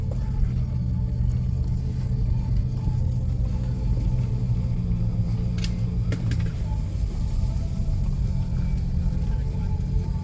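A sports car engine runs with a steady, deep rumble that stays close and continuous, accompanied by a couple of brief light clicks.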